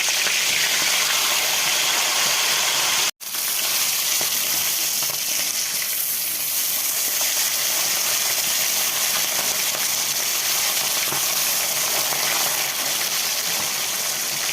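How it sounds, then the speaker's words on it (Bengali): Fish heads drop into hot oil in a wok and fry with a loud, continuous sizzle and crackle. After a brief cut near the start, the frying carries on steadily and close, with no voices. "তো এখন তেলটা গরম হয়ে গেছে, মাথাগুলো দিয়ে দিচ্ছি।"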